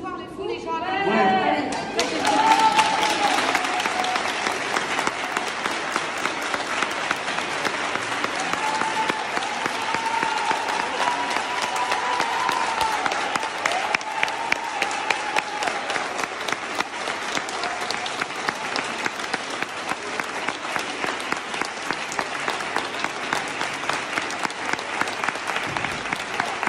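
A crowd applauds steadily during President Macron's hospital visit, dense sustained clapping with a faint murmur of chatter that carries on unbroken for nearly half a minute.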